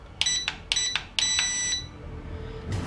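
A drone remote control emits a run of short electronic beeps followed by a longer sustained tone as its trims reset to neutral, close and clear against a quiet background.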